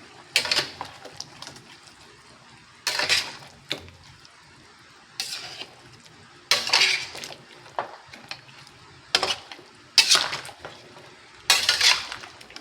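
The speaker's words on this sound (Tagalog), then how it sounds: "So, haluin natin." A spoon scrapes and clanks against a pot as beef caldereta with tomato paste and large bone-in beef pieces is stirred, in about eight loud bursts of scraping separated by short pauses, with no talking.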